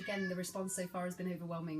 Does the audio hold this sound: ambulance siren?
no